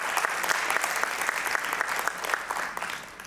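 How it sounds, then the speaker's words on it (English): An audience at a hip hop panel applauding for Mr. Groove, a brisk, even burst of many hands clapping at moderate distance that fades slightly toward the end. "clap it up for Mr. Groove"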